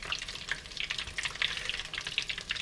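Fried mac and cheese balls flash fry in hot oil, a steady close sizzle with dense crackling pops and bubbling throughout, no talking.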